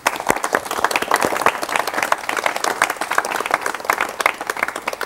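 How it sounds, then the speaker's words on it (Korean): A studio audience claps for a guest on a 1985 Korean TV talk program, brisk close applause with distinct hand claps, sustained and fairly loud. "박수로 맞이해 주십시오."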